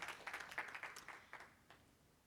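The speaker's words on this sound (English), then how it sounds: "give them a round of applause" An audience at the GAAPP Summit 2025 gives a brief round of applause, soft and distant scattered claps that taper off over about two seconds.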